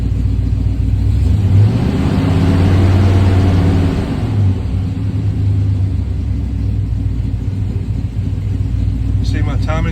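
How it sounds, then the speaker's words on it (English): A car engine fitted with ACES Killshot EFI fuel injection and a Black Jack distributor revs up as gas is given, a loud close rumble that rises and then settles back to a steady idle. "Give it a little gas."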